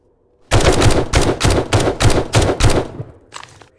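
Gunshots in the survival video game 7 Days to Die: a quick burst of about eight loud, close shots at a steady rhythm, then a short fainter trailing sound.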